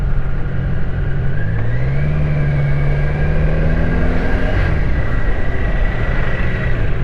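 BMW K1200LT motorcycle filtering through city traffic, its engine droning steadily up close with a rising then falling pitch as it pulls through, surrounded by the wash of nearby car noise.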